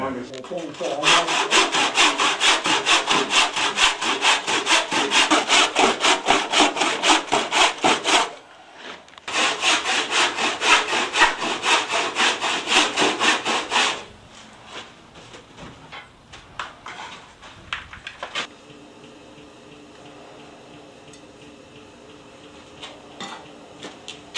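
Maple is turned on a wood lathe, with rapid, rhythmic scraping bursts in two long runs separated by a short pause, then fading to softer, sparse scratches.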